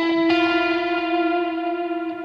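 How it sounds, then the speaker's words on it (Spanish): Electric guitar played through transparent overdrive, ambient reverb and long dotted-eighth delay without vibrato, a held note with a fresh pick attack partway through that rings on steadily with no voices. "Sin vibrato suena de la siguiente forma."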